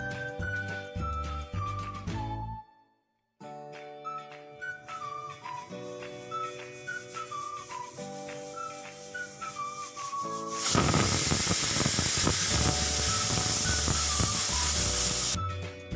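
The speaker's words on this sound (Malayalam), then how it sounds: "ഒറ്റ വിസിൽ മതി, അപ്പോഴത്തേക്കിനും നമ്മുടെ സോയാബീൻ റെഡിയാകും." A pressure cooker holding soya chunks lets go of a loud, sustained steam hiss and whistle in the last five seconds, following a stretch of melodic background music that continues underneath.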